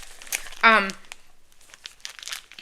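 Crinkling and tearing of mail packaging as a parcel is opened, a brief loud burst of rustling near the mic, followed by a woman's speech.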